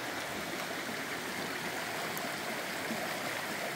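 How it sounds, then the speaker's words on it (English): A stream flows steadily along the Appalachian Trail, a constant close rushing of water with no voices heard. "it looks like we start the morning crossing the river with a stream"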